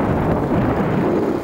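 Wind buffets an outdoor microphone on a hot day near El Médano, Tenerife, producing a steady, loud, low roaring rumble throughout.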